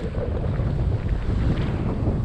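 A sailboat sails at about 6.5 knots in roughly 15 knots of apparent wind, with steady wind rush across the microphone and water hissing along the hull throughout.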